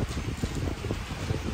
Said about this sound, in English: The wind's actually picking up right now.